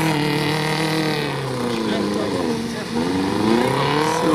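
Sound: off-road car engine starting and revving in a bog

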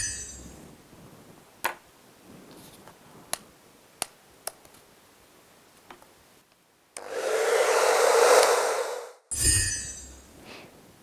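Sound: hair dryer drying a painted wand

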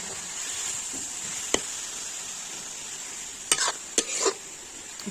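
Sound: grated bottle gourd sautéing in hot ghee

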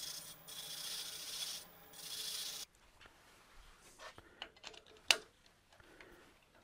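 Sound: hand sanding a turned wood box with 220-grit sandpaper

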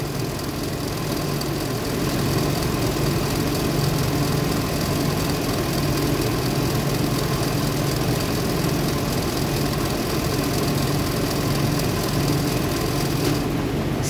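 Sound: refrigeration compressor running

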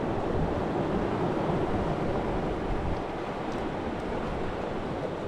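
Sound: strong wind at the sea

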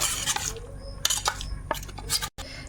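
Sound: mixing spices into eggs in a bowl with a spoon

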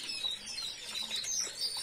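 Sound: caged birds fluttering and chirping

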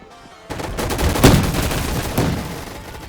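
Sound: gunfire in the video game Gun Fight Arena

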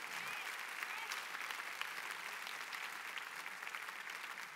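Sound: church congregation applauding

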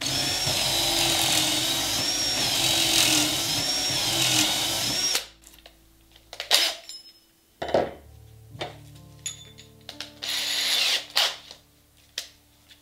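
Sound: drill boring a hole in wood

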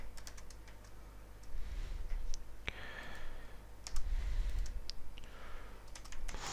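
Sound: computer keyboard typing while writing code

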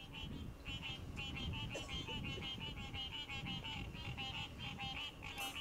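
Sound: frogs croaking a beat

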